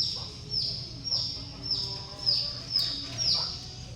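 A laying pullet chicken gives repeated rising clucks and calls in a close, regular series, with a low background murmur.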